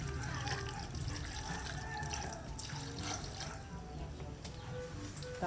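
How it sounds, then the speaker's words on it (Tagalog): Water trickles and splashes steadily as a small amount is poured into chicken feet adobo inside a pressure cooker, a continuous moderate pouring sound with faint kitchen noise and no talk. "Lalagyan ko din po yun ng tubig na kaunti."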